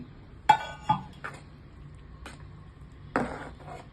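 A utensil clinks and knocks against a pan in a few sharp, separate taps while akki rotti rice flour dough is mixed, with quiet pauses between strikes and no talking.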